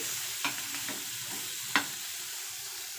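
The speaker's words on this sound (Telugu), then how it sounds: "ఇక్కడ చేపలు అయితే వేగిపోతున్నాయి" Fish frying in a pan over a slow flame, a steady close hiss of oil with two sharp clinks of a utensil against the pan, no voices.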